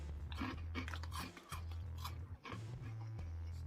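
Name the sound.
crunching Doritos Twisties Flamin' Hot Cheese Supreme chips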